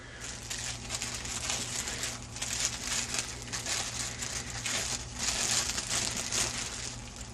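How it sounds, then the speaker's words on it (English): A plastic bag is pulled up over a tattoo ink cap holder, giving a steady, close crinkling and rustling of plastic that continues throughout without talk. "Just pull it up over the ink caps so that the ink caps are inside the bag."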